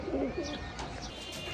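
Young pigeons in a cage give a short, soft cooing call near the start, followed by faint chirpy bird sounds over a quiet background.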